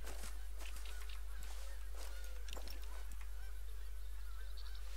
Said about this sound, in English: There's bloody sounds of geese everywhere